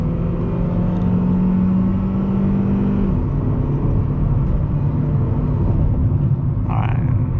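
A 2006 Honda Civic LX engine drones from inside the cabin, its steady tone shifting pitch about midway as the revs change, with a voice briefly audible over the motor.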